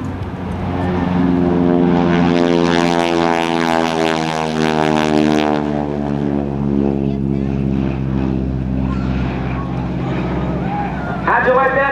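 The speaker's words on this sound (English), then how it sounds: "Let's listen from the right as Bill changes the pitch or the bite of the angle of the propellers to really get that big growl in it." Loud, growling T-6 Texan propeller aircraft passing close by at an air show, its deep rumbling engine note sliding lower in pitch as it roars past and recedes.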